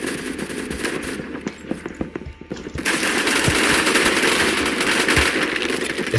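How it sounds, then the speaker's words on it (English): Rapid bursts of automatic gunfire from the first-person shooter game Phantom Forces, with loud, dense volleys that grow heavier and near-continuous in the second half, and no talking. "It's kind of hard to tell from where the bullet shells are coming from, or if they're shooting at you."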